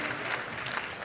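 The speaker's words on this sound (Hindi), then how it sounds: "एक बार जोरदार तालियों से मोहतरमा शगुफ्ता यास्मीन गज़ल का" Audience applause welcoming a poet at a mushaira in Dubai, a dense continuous wash of many hands clapping, loud and unbroken throughout.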